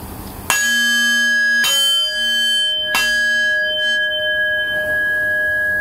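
A meditation bell is struck three times, each clear ring swelling and then sustaining into a long shimmering decay.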